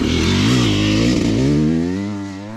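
A motocross dirt bike rails a corner on an MX track, holding steady throttle in a loud, close engine drone whose pitch wavers and rises through the turn, then eases slightly as it pulls away.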